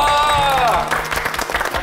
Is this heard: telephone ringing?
no